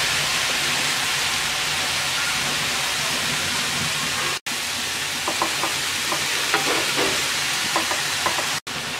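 Chopped cabbage with salt and dried shrimp frying in a pan gives a loud, steady sizzle, joined in the second half by repeated scraping and clattering strokes of stirring.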